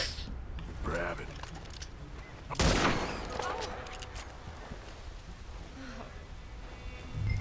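A gold-plated hunting rifle fires in Red Dead Redemption 2, one sharp, loud shot standing out near the middle over a rainy, rustling game backdrop, with a voice talking nearby.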